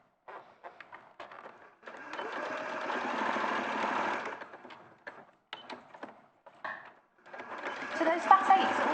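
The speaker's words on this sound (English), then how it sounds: "So I'll just sew around this and then hopefully that'll become a bit more clear." A sewing machine runs steadily for about two seconds while stitching around a seam, then gives a few short bursts and a longer run near the end, close by with speech in between.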